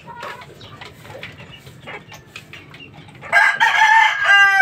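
Chickens cluck and shuffle at a small gamecock farm, then a rooster bursts into a loud, close crow near the end.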